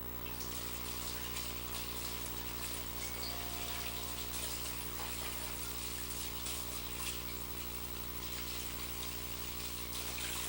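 Steady running water, as from a kitchen tap, rinses a small knife before greens are trimmed, a continuous close gushing wash with no speech over it.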